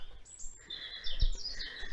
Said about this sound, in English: Hear all the birds.